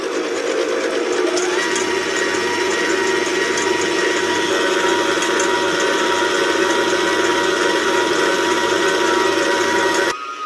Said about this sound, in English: So I have it in the mixer and it just goes until it peaks